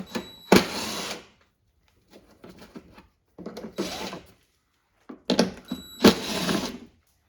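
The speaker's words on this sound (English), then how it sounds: "use a 10mm socket to remove the 3 bolts" Ratchet with a 10mm socket removing bolts on a 2021-2024 Toyota Sienna Hybrid during a trailer hitch install, heard as several short bursts of close, sharp clicking separated by silence.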